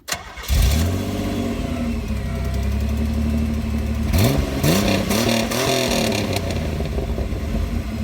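A 1987 Pontiac Fiero engine cranks briefly and catches, then settles into a steady idle before revving up and pulling away in a couple of rising surges, heard close and loud with no talk.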